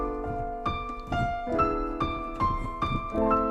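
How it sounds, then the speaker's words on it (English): Orchestral strings play a slow, sustained chord progression that moves through a half diminished seventh chord toward resolution, with soft repeated note onsets over steady low harmony and no talking. "there's our 2 half diminished 7 to 5, 7 to 1"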